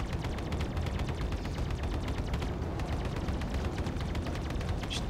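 Rapid, continuous spaceship cannon fire in a Star Citizen dogfight rattles over a dense rumbling backdrop of explosions, a frantic barrage of synthetic shots with no pause.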